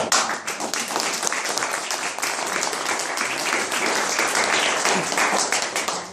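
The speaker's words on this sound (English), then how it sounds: "I want applause for Bernadette and I" Loud, sustained audience applause at a book reading, many hands clapping densely and evenly for several seconds before easing slightly at the end.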